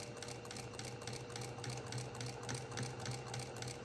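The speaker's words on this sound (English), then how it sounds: "So let's continue on and I'll show you how I sew the corner." A sewing machine stitches the corner of a flange binding with black thread, giving a quiet, even, rapid mechanical patter that repeats rhythmically without pause throughout.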